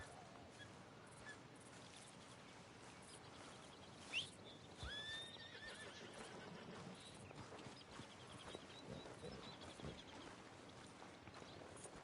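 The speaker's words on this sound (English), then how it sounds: "Oh, horses on the other side." A horse whinnies sharply, followed by a second, longer neigh a moment later, over a quiet outdoor ambience of soft hoof clops and distant bird calls in the Red Dead Redemption 2 video game's Horseshoe Overlook area.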